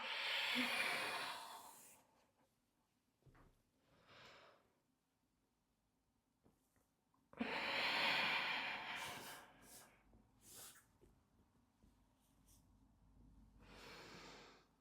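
Strong breath exhalations during a lunge exercise, two loud airy bursts separated by quieter breathing, close to the microphone with no talk.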